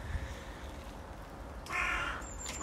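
A bird calls loudly and close by with a harsh, crow-like caw near the end, following a stretch of quieter chatter over a steady background hum.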